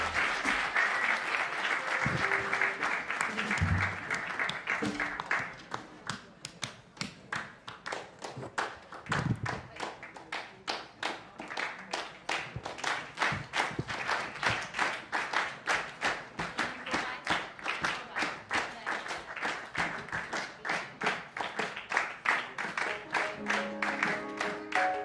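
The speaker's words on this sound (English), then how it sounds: "Come on, start the vibe, start the applause." Audience at a live jazz club show by a Pan Asian chamber jazz ensemble breaks into sustained applause, dense rapid clapping filling the room for the whole stretch, with a few low thumps early on.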